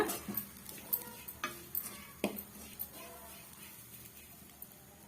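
A spoon or spatula stirs potato curry ingredients being dry-roasted in a pan over medium flame, giving a series of distinct metallic clinks and scrapes against the pan at an irregular rhythm, close and fairly clear.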